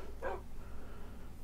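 Dogs in the Minecraft video game give a short bark-like yip, then a brief high whimper a moment later, both faint over a low steady background.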